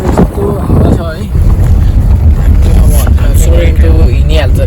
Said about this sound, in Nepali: यस्तो हावा छ है